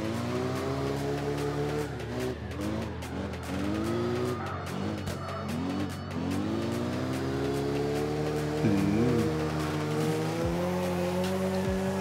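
A BMW M3 E46 GTR drifting in the CarX Drift Racing 2 video game, its engine droning and revving while tires squeal in long, wavering screeches throughout.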